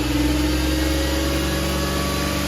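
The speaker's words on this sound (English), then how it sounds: "You want to go ahead and rev it a little bit?" A car engine revs up in a workshop lab, a loud, close, steady mechanical drone with a rising pitch and no speech over it.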